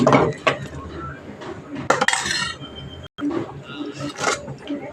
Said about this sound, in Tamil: நல்லா கிளறி விட்டுக்குவோம்